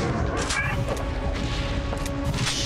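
Shotgun blasts in an indie horror video game, loud bursts cutting through a constant dense background of game noise, with sharp broadband hits near the start and the end.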